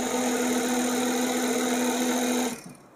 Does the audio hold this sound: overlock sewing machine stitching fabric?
yes